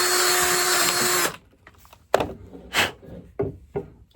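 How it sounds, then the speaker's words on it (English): A power drill whirs steadily for a moment, widening a hole in a wooden walking stick, and stops, followed by a few scattered knocks and scraping sounds on wood, close by. "take your drill bit and wallow that out a little bit"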